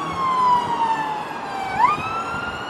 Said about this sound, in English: there are sirens for days